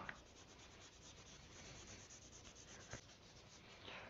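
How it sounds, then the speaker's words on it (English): Steady, soft scratchy rubbing of sandpaper over a carved wooden brook trout, continuous and close, with a few small clicks and bumps along the way. "now I can go back and sand that surface"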